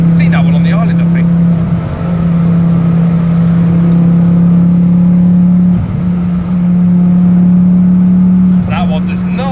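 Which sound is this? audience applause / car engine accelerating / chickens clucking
car engine accelerating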